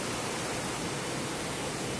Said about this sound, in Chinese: 哦，瀑布溪流。